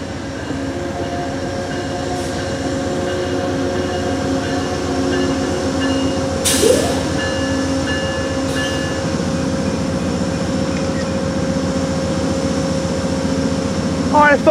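A Norfolk Southern freight train led by locomotive 157 rolls past on the old Southern line, giving a loud, continuous rumble and clatter of wheels with a short squeal near the middle.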